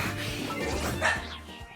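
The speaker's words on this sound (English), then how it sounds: "my dog is going ballistic." A pet dog barks and yips excitedly indoors, a burst of quick, loud barks close by with a whimpering edge, no voices over it.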